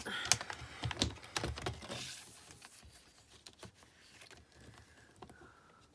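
Paper trimmer slicing through cardstock during card making, a series of quick sharp clicks and scrapes up close, busiest at the start and then thinning to softer scattered ticks, with no talking.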